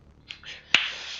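Sharp claps from a player during a Rainbow Six Siege session: a faint one, then a louder crisp one followed by a lingering hiss of room or game noise, no talk.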